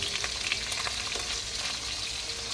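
Food sautéing in a pan gives a loud, steady, close sizzle with crackling hiss throughout and no talking.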